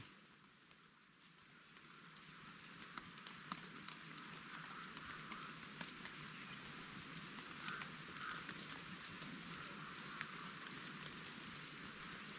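Steady rain falls through a forest where chanterelle mushrooms are being gathered, a soft, even hiss of drops with faint scattered ticks, continuous and quiet throughout.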